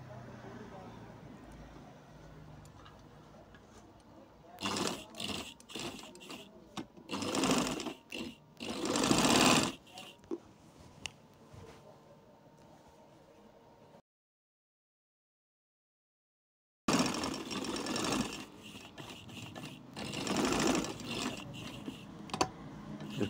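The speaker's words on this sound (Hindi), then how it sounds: "तो हमने इधर हिप तक सिलाई लगा दी है" A sewing machine stitches the side seam of a kameez in rapid bursts of mechanical whirring, close and fairly quiet, broken by pauses and a stretch of silence; someone speaks between the runs.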